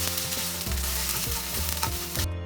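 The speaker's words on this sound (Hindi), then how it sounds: "1 टीस्पून सेज़मे ऑयल ले रही हूँ चिकन फ्राई करने के लिए।" Chicken pieces fry over a high flame in a teaspoon of sesame oil, a dense, close, steady sizzle with faint clinks of stirring.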